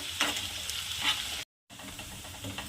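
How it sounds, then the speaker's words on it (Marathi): Potatoes for dum aloo fry in a pan over slow to medium heat, giving a steady close sizzle with crackling bursts that cuts off briefly, then resumes. "आलू आपल्याला स्लो म मीडियम आचेवरच फ्राय करायचं आहे"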